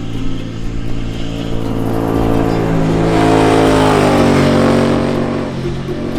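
Indian Scout motorcycle cruising alone along a near-empty desert highway, its engine note a steady, loud drone that swells slightly in the middle and holds without any voices.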